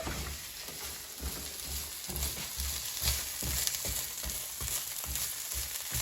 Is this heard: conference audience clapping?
no